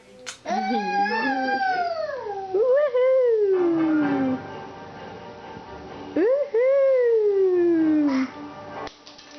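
A small Jack Russell terrier howls in long, wavering, falling tones, two drawn-out howls with a pause between, loud and close.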